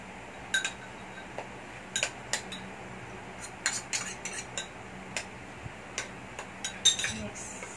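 A utensil clinks and scrapes against a bowl while sardine okoy batter with carrot is mixed, scattered sharp taps and clicks at irregular intervals over a quiet kitchen background.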